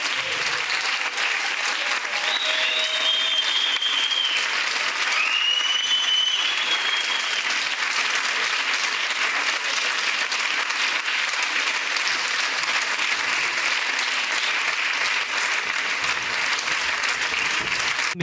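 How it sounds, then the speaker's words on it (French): Sustained audience applause for flamenco dancers at a flamenco competition in the Drôme, a long, even wash of many hands clapping, loud and unbroken, with a few faint whistles early on. "on peut les applaudir très fort"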